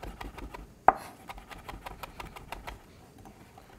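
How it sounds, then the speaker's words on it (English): Knife mincing fresh herbs on a cutting board, with quick rhythmic chopping taps, one sharp louder knock early on, and a steady close clicking pattern that carries through to the end. "And then you just mince it."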